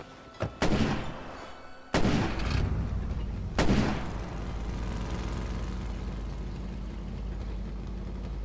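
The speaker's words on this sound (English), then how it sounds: "Hear those gunshots? That means my sentry is taking them." Three sharp, loud gunshots ring out at irregular intervals in State of Decay, each leaving a rumbling echo over a low engine-like drone.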